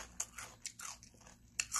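Crunchy Korean radish kimchi (seokbakji) is bitten and chewed up close, giving several sharp, crisp crunches spaced irregularly, with no talking.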